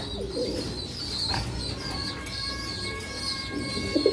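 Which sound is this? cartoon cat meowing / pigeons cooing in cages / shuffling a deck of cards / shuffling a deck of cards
pigeons cooing in cages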